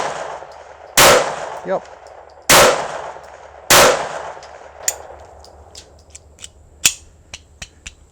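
Three loud, sharp gunshots sound at about one-second intervals, each trailing into a short echo, followed by fainter metallic clicks and clatter from the gun's action. A voice briefly speaks between them.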